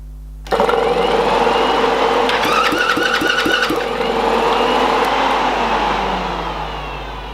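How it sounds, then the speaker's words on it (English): An electric fan switches on abruptly and runs with a loud, steady whirring hum, briefly joined by a rapid rattling patter, then eases slightly in level near the end; no one speaks. "Fan works."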